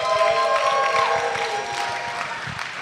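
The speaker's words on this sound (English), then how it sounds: "So can we all give a big round of applause to Sam and Kelly as they come up here." An audience at an all-campus gathering claps for two students coming up to the front; the applause is a moderate, steady wash of hands with a faint tonal hum underneath, slowly easing off toward the end.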